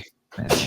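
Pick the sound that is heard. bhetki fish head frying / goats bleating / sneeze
sneeze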